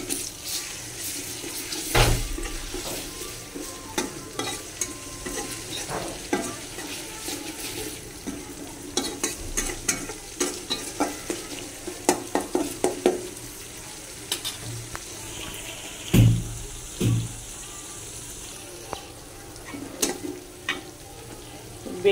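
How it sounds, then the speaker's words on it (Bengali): Onions fry with ginger-garlic paste in a pan, giving a continuous close sizzle with frequent scraping stirs and a few heavier knocks against the pan, and no talking. "পেঁয়াজগুলো হচ্ছে ভাজা হয়ে গেছে, আদা রসুন বাটা দিয়ে দিচ্ছি।"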